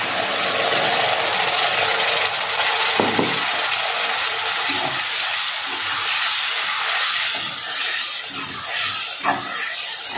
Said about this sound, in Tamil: ஒரு 2 நிமிஷம் இப்படியே எண்ணெயில் வதங்கட்டும்.